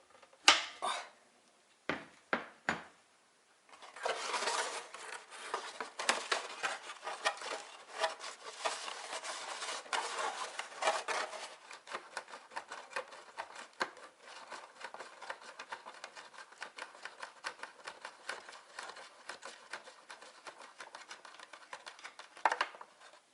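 Engine oil drains from a budget Expert Tools XYBM50 air compressor into a cut plastic bottle, giving a few sharp knocks at first, then a steady close crackling trickle and patter that gradually thins out.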